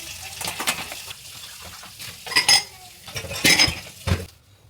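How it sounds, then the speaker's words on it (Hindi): Dishes, pots and cutlery are washed in a home kitchen, with irregular clinks, clatters and scrapes of utensils rising and falling close by, and no talking. "फिर आ गई थी मैं किचन में सारे बर्तनों की क्लीनिंग"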